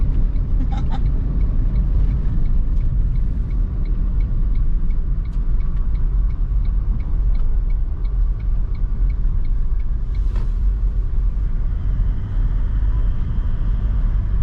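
A vehicle drives steadily along a smooth outback dirt road in the Pilbara near Millstream, with a continuous low rumble of engine and tyres and faint ticking over the top.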